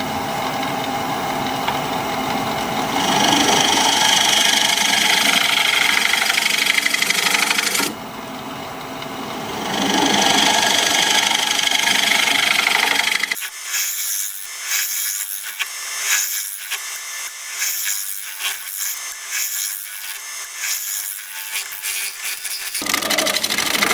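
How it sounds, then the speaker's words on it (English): A negative rake scraper works across spinning wood on a lathe, giving a broad, hissing scrape with a motor hum beneath, broken by brief pauses before it resumes with a rougher, fluttering texture. "I'm going to use my negative rake scraper and scrape."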